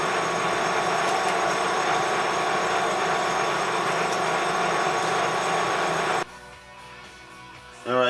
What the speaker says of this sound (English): We're going to continue boring this out now